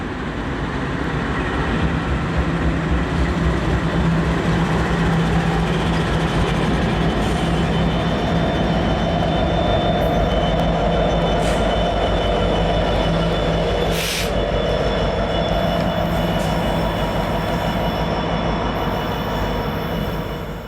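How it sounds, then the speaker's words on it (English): A long locomotive-hauled train rumbles steadily past, wheels clattering and occasionally squealing on the rails, a continuous heavy roar that stays loud throughout. "the locomotives were finally uncoupled and the train started up the hill towards Steamtown Y"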